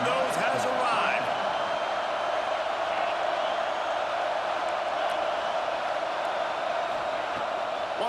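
Stadium crowd in a football video game, a constant roaring wash of noise at steady loudness, with a brief burst of louder activity near the start.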